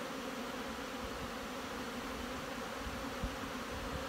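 A steady, close drone of many honey bees buzzing at the entrance of a healthy hive in Canadian autumn, unbroken throughout with an occasional louder bee flying past.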